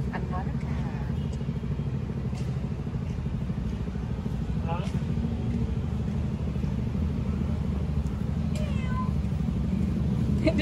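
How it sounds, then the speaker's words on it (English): A cat meows several times on a city street in Bukit Bintang, Kuala Lumpur, over steady traffic rumble with passing motorcycles and cars, while people talk nearby. "Another cat."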